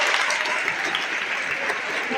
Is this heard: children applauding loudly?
yes